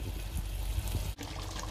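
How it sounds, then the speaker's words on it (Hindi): Water trickles and splashes into a pot of mutton in a soft, continuous pour, fairly quiet, with a brief dip near the end. "पानी मैंने डाला है जी इसके अंदर जितना मुझे शोरबा चाहिए था"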